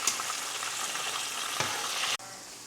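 Strips of beef sizzle steadily in hot oil in a pan, one batch of a stir fry, with a brief stir or clatter near the end and no talking.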